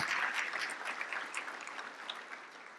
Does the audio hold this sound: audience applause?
yes